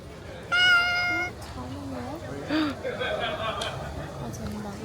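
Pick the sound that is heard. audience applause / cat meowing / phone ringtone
cat meowing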